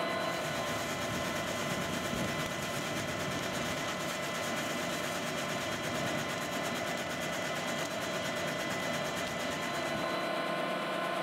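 A HARDI field sprayer's turbo filler suction runs with a steady mechanical whine and pump hum, even and continuous at moderate level, with no one speaking.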